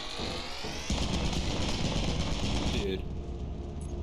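Rapid automatic turret fire from Lethal Company, a dense loud burst that runs steadily for about three seconds and then cuts off sharply, leaving quieter game ambience.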